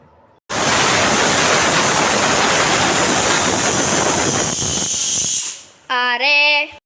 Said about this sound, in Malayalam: ഇനി നമുക്ക് അതിനടിച്ച് 6 വിസിലിന് വെക്കാം